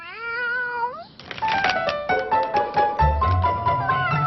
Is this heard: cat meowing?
yes